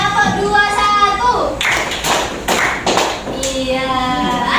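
Classroom clapping game with pupils tapping out counted hand claps, several sharp bursts of clapping separated by a teacher talking.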